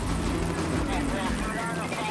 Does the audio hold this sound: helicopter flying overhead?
yes